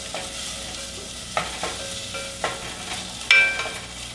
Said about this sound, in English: let those cook just a little bit